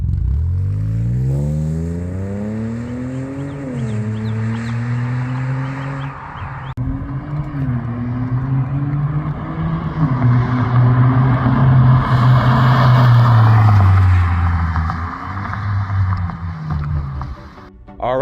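A 2023 BMW G80 with downpipes, no secondary cats and a freer-flowing exhaust revs hard and close, its engine note climbing, dipping and swelling again through several long, loud pulls.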